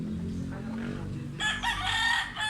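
A rooster crows loudly and close by at a market where watermelon and bananas are sold, one long crow rising over low background voices and clucking.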